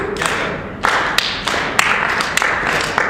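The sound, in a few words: audience clapping on the beat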